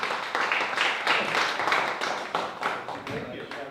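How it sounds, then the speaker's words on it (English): An audience at an agricultural technology summit claps for a speaker. The applause is moderate and slightly uneven, with individual claps audible throughout a few seconds. "give Brad a round of applause"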